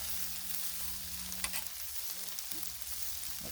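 Shrimp sizzle on a Blackstone flat-top griddle while paella cooks, giving a faint, steady frying hiss with a low background hum and a couple of brief clicks, no voices present.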